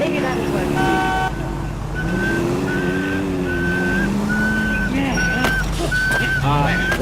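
A person whistles a series of short repeated tones in L.A. Noire, joined by beeping and other game-like sounds, while voices talk over the top.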